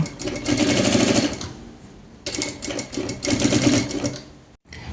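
Sewing machine runs a straight seam along the edge of a handmade apron, two loud sustained bursts of rapid mechanical stitching separated by a brief softer pause, close and steady with no talk.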